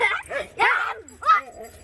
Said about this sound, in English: Get off the furniture! Bad dog. Bad dog.